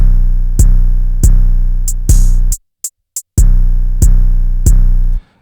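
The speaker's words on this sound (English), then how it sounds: "Pattern 2 for the drums sounds like this." Looping trap drums: booming bass kicks and snappy claps with light hi-hat ticks, a short break of scattered hits midway, then the groove resumes.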